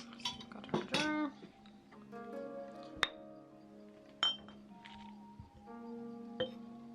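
Glass jar clinking during kyphi incense making with frankincense: four or five sharp, ringing clinks spaced a second or more apart, close and clear in a quiet room with faint handling noise between.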